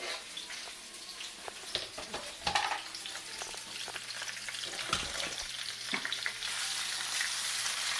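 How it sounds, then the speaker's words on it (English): Fajita meat stir-fried in oil over high heat, giving a busy crackling sizzle with frequent utensil scrapes and clatters that swells louder near the end. "I'm going to go ahead and stir fry"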